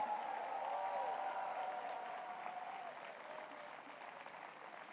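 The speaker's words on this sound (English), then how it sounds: "let's give them a thunderous round of applause" Applause from an audience at an annual address, a steady crowd clapping that slowly fades in loudness, with a sustained tone ringing underneath.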